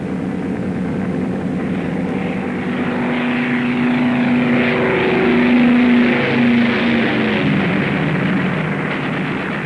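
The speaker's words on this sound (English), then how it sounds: "The bombers are approaching the target." WWII bomber aircraft engines drone steadily as the planes approach the target, a loud sustained propeller roar with a slowly shifting pitch that swells slightly and then eases.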